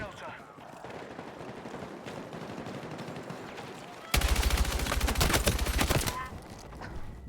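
Rapid automatic gunfire from a Battlefield multiplayer match bursts in loud and dense for about two seconds after a stretch of quieter battlefield ambience with someone talking.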